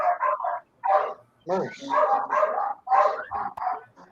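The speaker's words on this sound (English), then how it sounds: "Them dogs are going nuts." Several dogs barking and yipping in quick irregular bursts, fairly close and loud, with a person briefly speaking among the barks.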